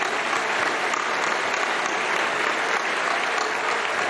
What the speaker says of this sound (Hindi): भरपूर तालियों में इनको रुख्सत करें, भरपूर तालियाँ तालियाँ बजाओ